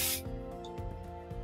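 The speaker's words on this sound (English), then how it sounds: "hairspray onto the comb and brush it all back" Hairspray sprays onto a comb in one short, close hissing burst, followed by quieter handling sounds with faint music behind it.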